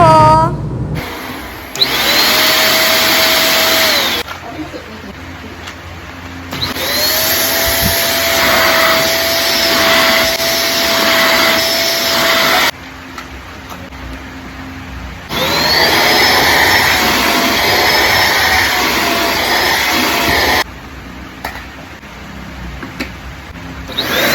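A Deerma vacuum cleaner runs with strong suction, a loud steady motor whine with a rising pitch at each start. It switches on and off in three long bursts, with brief quiet gaps between them.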